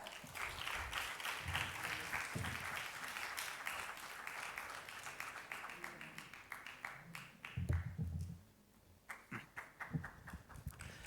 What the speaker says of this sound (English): Please put rounds of applause for Abhishek Mohta.